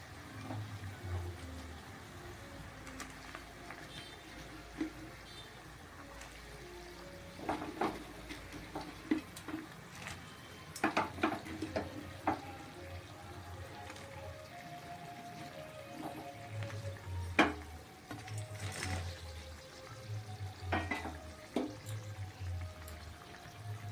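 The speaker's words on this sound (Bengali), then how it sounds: "বন্ধুরা দেখেছো আমার ঝোলটা ফুটে উঠেছে তো চলো আমি পকোড়াগুলো দিয়ে দিই" Chilli chicken gravy bubbles at a steady simmer after pakoras go in, with soft watery splashes and occasional louder clinks and stirring knocks scattered through the stretch.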